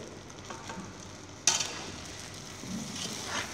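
Sliced onions hit a hot pan and fry with a sudden sharp sizzle, settling into a steady low crackle with a swell of stirring near the end.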